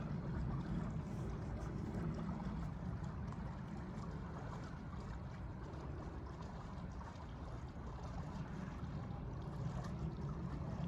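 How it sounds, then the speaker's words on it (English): Water flowing steadily at an outdoor spot in Maryland, a constant low rushing wash with no break, moderately close and alone without voices. "I could hear that water flowing"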